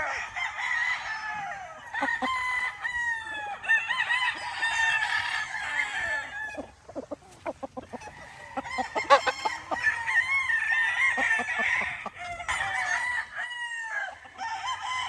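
Boston Roundhead offspring gamefowl roosters crowing on a game farm, repeated overlapping crows and clucks from several birds at moderate distance.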